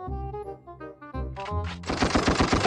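Gunfire sound effect from a V8 live sound card: a brief tonal passage gives way to a loud, rapid burst of machine-gun-style shots.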